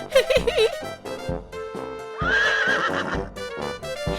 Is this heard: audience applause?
no